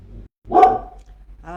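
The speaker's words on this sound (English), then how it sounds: "here we are, warts and all, dog barking" A single sharp dog bark rings out nearby, framed by brief quieter sounds before and after.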